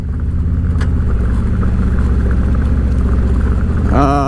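Harley motorcycle fitted with a Screamin Eagle clutch kit, riding through deep gravel: a loud, continuous low engine rumble with crunching texture close by, and the engine note rising briefly near the end.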